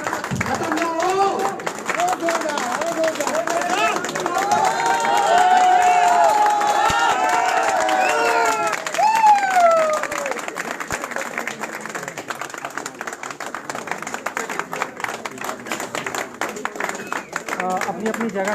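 A crowd at a speaking event claps steadily throughout, and cheers and whoops rise through the middle. A voice talks over the applause for much of it.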